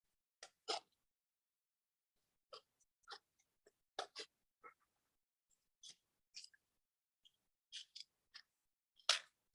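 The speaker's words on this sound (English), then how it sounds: "we're going to cut those out with our scissors" Scissors snip through handmade paper while cutting out circles, giving a series of short, crisp, quiet clicks and snips at irregular intervals with silence between them.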